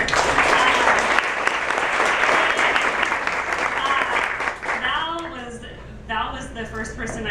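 An audience at Jammin Java during a poetry event breaks into loud, sustained applause, steady for several seconds before thinning out while voices and a few cheers rise through it.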